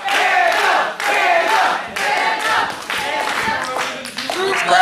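A wrestling crowd at a live independent event roars and shouts continuously, with cheering and scattered clapping rising and falling in loud waves throughout, close and dense.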